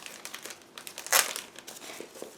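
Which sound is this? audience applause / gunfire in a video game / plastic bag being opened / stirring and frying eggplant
plastic bag being opened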